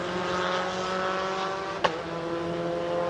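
F4 race cars on a circuit roar past as a steady engine drone with harmonic whine, with a short sharp burst midway as a car sweeps by close.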